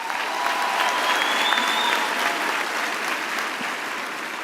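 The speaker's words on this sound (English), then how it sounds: "I think that deserves a round of applause." A large crowd at a university graduation ceremony applauds steadily, a dense, even wash of clapping filling the hall from start to finish.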